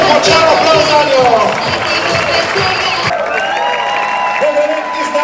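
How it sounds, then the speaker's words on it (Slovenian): Spectators applaud and cheer at a bridge diving competition in Kanal, a loud sustained wash of clapping and crowd noise with some whoops, mixed with a voice over a public address. "Čestitke in še močan aplavz za njo."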